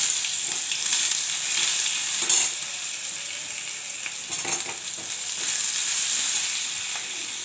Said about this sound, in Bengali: ফোড়ন, লঙ্কা, জিরা আর কালো জিরা ফোড়ন দিচ্ছি। আর রসুনটা দিয়ে দিচ্ছি।